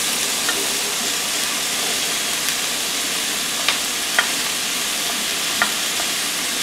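Celery and leek fry in a pan for baked chicken, a loud, steady sizzle and hiss throughout with a few light stirring clicks, close and uninterrupted by speech.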